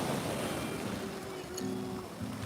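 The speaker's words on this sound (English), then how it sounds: "And this is pretty wavy right now." Choppy turquoise sea off La Romana churns in a constant rushing wash, loud and close, with faint tonal sounds drifting over it.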